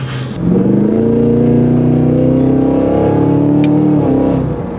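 A Cadillac Escalade V SUV's combustion engine revs up loudly nearby, holding a rising, throaty roar for several seconds before easing off.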